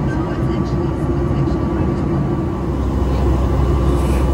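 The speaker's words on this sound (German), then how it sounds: "Das Flugzeug ist auch wieder neuerer Bauart. Das ist eine Boeing 737 MAX" Steady, loud cabin drone of a Boeing 737 MAX 8-200 airliner cruising on a calm flight to Mallorca, an even engine and airflow rumble that stays unbroken throughout.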